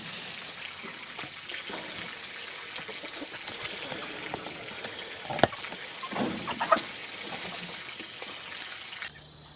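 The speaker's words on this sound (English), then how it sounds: "I'm interested to see how much water is going to drain out" Water drains from a rain barrel in a quiet trickle and dribble, soft and close, with a few small splashes and knocks partway through.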